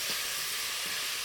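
Capsicum and other vegetables frying in a pan, a continuous steady sizzle and hiss close by with no voices.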